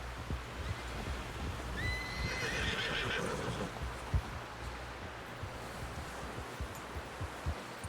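A horse in Red Dead Redemption 2 gives one clear whinny partway through, over a faint bed of shuffling hoof steps and rustling, fairly quiet and without talking.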